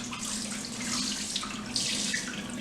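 Long grain rice rinsed under a running tap, a steady close splashing stream of water into a sink with no talking.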